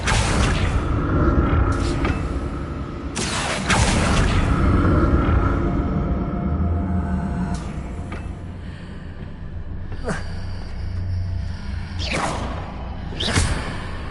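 Magic spells cast in the game Hogwarts Legacy, Confringo and Accio, land as repeated loud whooshes and booming bursts over a low rumble, several sharp swishes spaced a second or two apart.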